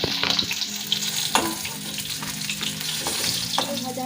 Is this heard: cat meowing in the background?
no